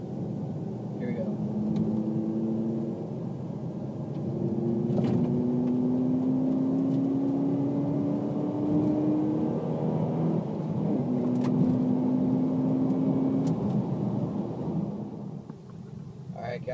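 A car fitted with a Corksport short ram intake accelerates hard through third and fourth gear from about 3,000 RPM, its engine drone climbing steadily in pitch over two close, loud pulls with a brief dip between them.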